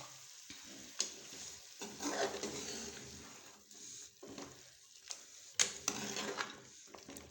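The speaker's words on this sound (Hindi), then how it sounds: "अच्छी तरह से भून लेंगे।" Chicken frying and being stirred in desi ghee with chillies and cumin in a pan: a steady, quiet sizzle broken by scraping stirs and small clinks, with no talking.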